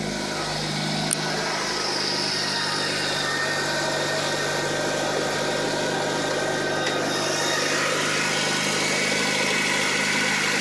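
A modified 2003 Mitsubishi Lancer Evolution 8 engine of about 500 horsepower idles steadily with a faint lifter tick running through the low rumble, no voices, constant and close.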